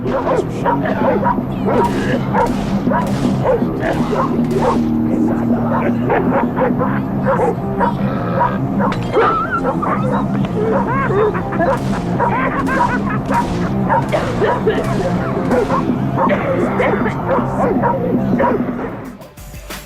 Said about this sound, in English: You can also hear sounds of what sounds like men and women coughing, laughing, dogs barking and crying, as well as metal music playing.